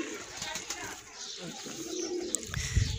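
Pigeons coo softly in low murmuring bursts outdoors during a village pigeon-flying contest, with background noise and faint voices mixed in.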